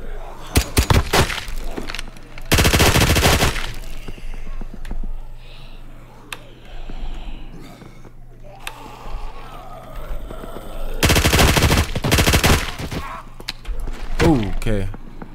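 Gunfire in a zombie video game comes in several sharp, loud bursts of shots separated by quieter stretches of game sounds and thuds, heard alone and at close range.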